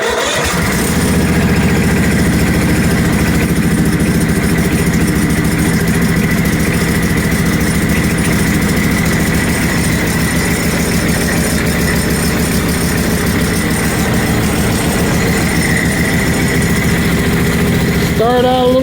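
A band sawmill is started up and left running on a newly installed and trued band wheel tire, producing a loud, steady mechanical drone with a continuous engine-like hum throughout.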